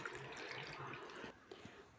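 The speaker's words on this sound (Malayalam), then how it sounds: "ഈ വെള്ളം നമുക്കിതിലേക്ക് ഒഴിച്ചു കൊടുക്കാം" Water is poured into a glass in a short, quiet splashing trickle that tapers off, followed by a few soft knocks.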